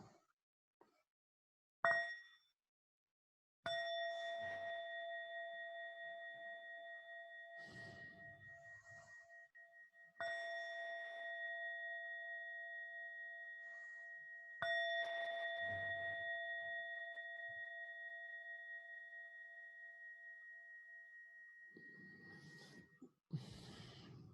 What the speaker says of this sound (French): Je vais à présent sonner la cloche à 3 reprises